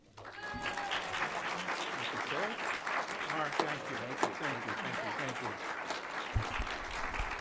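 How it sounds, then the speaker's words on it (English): An audience in Baltimore gives warm applause welcoming a congressman, steady close clapping with a few louder individual claps and murmured voices mixed in. "That is a warm applause."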